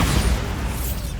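A Bombarda spell explosion from the video game Hogwarts Legacy: a short, deep boom with a low rumble that bursts at once and fades over about a second, with no voices.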